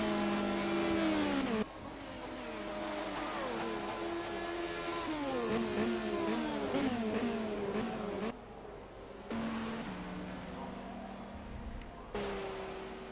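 LMP1 race car engines in rFactor 2 during an 8-hour endurance race at Sebring, whining and revving with rising and falling pitch as cars shift and pass, steady and moderately loud.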